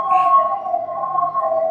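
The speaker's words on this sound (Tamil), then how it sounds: "அதனால் அப்பப்போ ஆம்புலன்ஸ் வந்துட்டு தான் இருக்கும்" An ambulance siren wails along a road lined with hospitals, a steady loud electronic tone holding across the whole stretch with a faint murmur beneath it.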